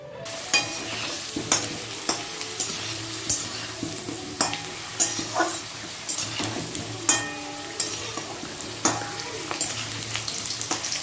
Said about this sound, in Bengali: আলুগুলোকে লাল লাল করে ভেজে নিচ্ছি